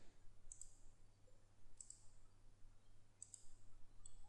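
Faint computer mouse clicks during LS-DYNA modeling work, heard as three quick double clicks spaced more than a second apart over a low steady hum.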